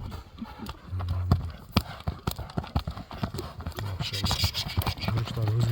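A horse's hooves clip-clop in a steady run of sharp strikes on hard ground, close by. The horse is a prized ulak (goat-pulling game) horse in Kalinin village, Nookat. Faint voices occasionally sit underneath.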